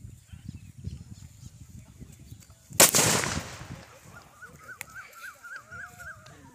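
One sudden, very loud sutli bomb firecracker blast erupts and rumbles away, followed by a dog whimpering and a repeated electronic chirp in the quiet afterward.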